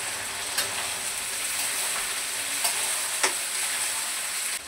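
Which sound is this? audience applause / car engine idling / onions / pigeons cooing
onions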